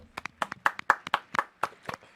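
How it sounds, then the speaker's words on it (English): A small group claps for Trace Armstrong, a football agent, at a Dallas Cowboys coaching press conference, giving about a dozen sparse, uneven handclaps over two seconds, close and dry, with no voices. "Let's give Trace a hand."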